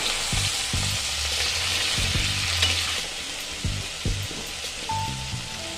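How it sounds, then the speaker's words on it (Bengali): Spices and slit green chillies frying in hot oil in a pan for a Bengali spinach dish give a steady close sizzle, with several soft stirring knocks against the pan throughout. "এগুলো দিয়ে আমি খুব ভালো করে এটাকে ভেজে নেব"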